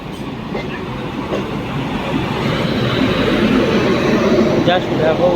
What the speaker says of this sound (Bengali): এই ট্রেনটাতে আমি ছিলাম সেই মেদিনীপুর লোকাল